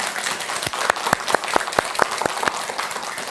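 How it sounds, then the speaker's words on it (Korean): An audience at a Buddhist lecture gives a short burst of applause, a dense run of sharp claps from a modest crowd. "박수 쳐주세요"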